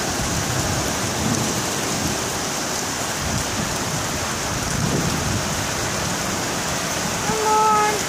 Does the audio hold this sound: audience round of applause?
no